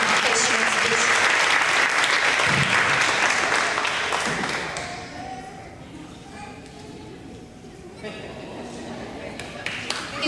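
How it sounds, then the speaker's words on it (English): An audience at a first grade awards ceremony bursts into applause that holds for about five seconds before tapering off, leaving quiet room sound with a few scattered claps. "Let's give him one more round of applause"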